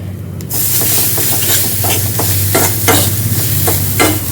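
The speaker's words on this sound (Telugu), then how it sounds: "ఇవన్నీ తాలింపు అయితే ఇలాగ వేసుకున్నాక కలిపేసుకున్నామండి" A spoon stirs spices tempering in a hot cooking pan, repeated scraping strokes over a constant loud sizzle and hiss of frying oil, with no talking.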